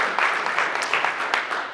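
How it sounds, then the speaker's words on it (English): Conference audience applauding after a real estate keynote, a dense, steady patter of many hands clapping, fairly close and continuous throughout the short burst. "that's a round of applause for all of you guys"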